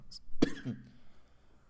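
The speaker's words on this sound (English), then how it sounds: "I have a small cough" A single short cough, close and fairly quiet, followed by a brief throat-clearing sound and then quiet.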